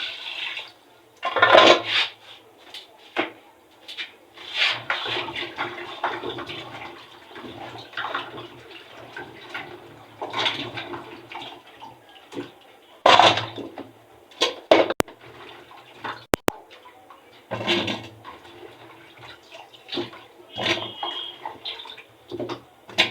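Food being washed by hand in a pot of water for the second time, outdoors in an African village kitchen, with intermittent splashing and sloshing bursts and brief pauses, close and moderately loud, no talking.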